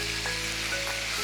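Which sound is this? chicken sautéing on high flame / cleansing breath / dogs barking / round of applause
chicken sautéing on high flame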